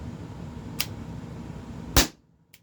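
Sharp pneumatic shots from a TR50 launcher firing rubber balls: a faint pop, then a loud close crack followed by quiet, and a small click at the end.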